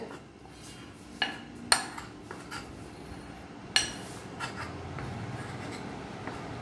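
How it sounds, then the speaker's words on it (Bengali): A utensil mixes flour and cornflour in a bowl: a few sharp scrapes and clinks against the container, close and isolated, over a quiet background. "ময়দা আর কর্নফ্লাওয়ারটা মিশিয়ে নেব ভালোভাবে।"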